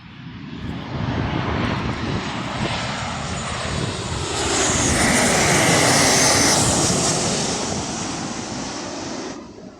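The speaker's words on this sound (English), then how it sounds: "Another 737 from Boeing. It's coming from Ryanair." A Ryanair Boeing 737 airliner passes overhead, with a loud, broad jet roar that builds, holds near its peak mid-pass and then fades slightly at the end.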